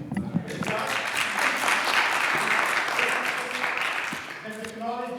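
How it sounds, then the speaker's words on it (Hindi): A church congregation at a youth Sunday service claps together in a dense, continuous wash of applause, with voices audible at the start and a speaker's voice returning as the clapping fades. "बच्चों को इनकरेज करने के लिए साथ साथ आमीन कह दिया करें, हालेलुया कह दिया करें, तालियां बजा दिया करें हमें।"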